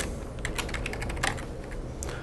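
Rapid clicks from a computer keyboard as a name is typed in, a quick run of light, close keystrokes over a soft background hiss.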